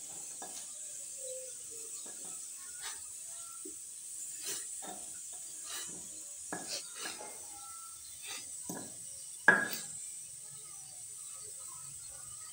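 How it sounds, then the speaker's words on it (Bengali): Boiled peas being mashed coarsely by hand, giving soft irregular squishing and scraping strokes over a steady background hiss, with one sharper knock near the end; no talking. "এইভাবে আমি সবগুলো মটরশুঁটি পিষে নেব।"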